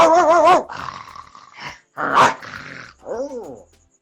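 A voice imitating a dog, with harsh growly barks and rough yelps in short bursts separated by brief pauses, loud and close.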